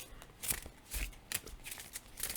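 Tarot cards being shuffled by hand, a faint, uneven run of soft riffling and flicking bursts that come and go without a steady rhythm, fairly quiet and close.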